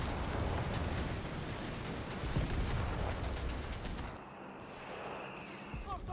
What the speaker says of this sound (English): Ships are shooting at us!